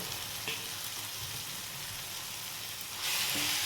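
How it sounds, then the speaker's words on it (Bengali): Mashed yardlong bean paste fries with onions in a pan, giving a steady soft sizzle throughout, with a clatter near the start and a louder, brighter burst of frying near the end. "এবার আমি এর মধ্যে এই ভর্তার বাটাটা দিয়ে দিচ্ছি মানে বরবটির বাটাটা আমি এর মধ্যে দিয়ে দিলাম"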